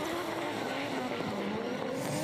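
A drift car competing in D1NZ qualifying at Manfeild holds its engine near the rev limiter, making a loud, continuous, harsh buzzing roar that stays steady for the whole stretch.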